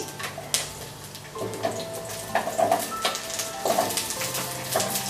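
Chopped ginger, garlic and onion dropped into a tablespoon of hot oil in a kadai, crackling and sizzling with bursts of spattering as each batch goes in, plus light stirring, close and steady.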